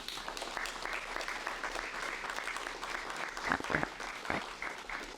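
A live audience applauds a mental health panel for West Contra Costa students, sustained clapping from a crowd that holds steady for several seconds, with a few louder individual claps standing out near the end.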